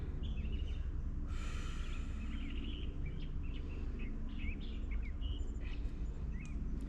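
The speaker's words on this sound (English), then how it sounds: "I can hear the birds come down" Small birds call outdoors, their scattered short chirps and tweets fairly faint and repeated over a loud, steady low background hum during an at-home workout.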